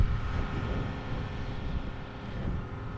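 A grass cutter engine running steadily in a farm field near string bean plantings, a continuous low droning hum at moderate distance with no talking over it.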